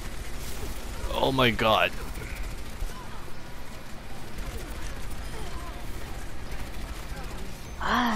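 Enemy gunfire in the team shooter game Overwatch, rapid rattling bursts of shots with mechanical clicks, moderately loud, under an excited player's voice.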